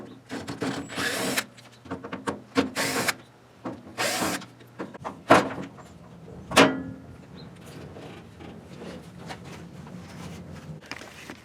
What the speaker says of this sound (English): I'm going to go ahead and take this panel off right here with this Phillip head I got on this drill